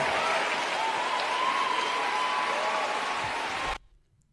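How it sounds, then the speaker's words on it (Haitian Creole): Students and others in a hall applauding President Barack Obama's remark, a dense, steady clapping that holds at full strength, then cuts off abruptly near the end. "vous capable d'entendre dans le background les étudiants et moun qui étaient dans la salle là, bat bravo"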